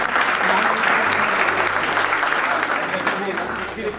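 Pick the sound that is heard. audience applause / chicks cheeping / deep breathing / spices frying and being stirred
audience applause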